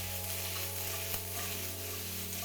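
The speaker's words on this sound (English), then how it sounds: "Now I'm just going to give it another stir fry." Whole egg stir-frying in a pan of Christmas leftovers, a steady close sizzle with faint stirring scrapes throughout under a low constant hum, no talking.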